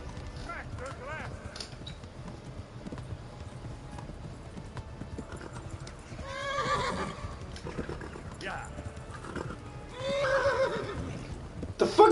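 A horse in the medieval game Kingdom Come whinnies in two bursts over steady clip-clopping hooves, with a rider's voice talking over the scene.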